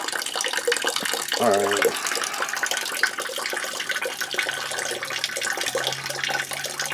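Water pours steadily out of an old 66-year-old boiler being replaced, a constant close rushing splash, with a brief spoken word near the start.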